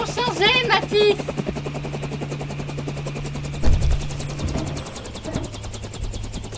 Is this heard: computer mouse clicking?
no